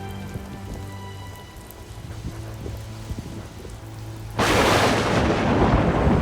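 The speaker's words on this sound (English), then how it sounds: "the heavens opened, the rain came pouring down, and as the darkness rolled in," Heavy thunderstorm rain on a cottage-core bus parked by the sea: quiet patter and low rumbles at first, then a sudden loud downpour bursts in and roars steadily to the end.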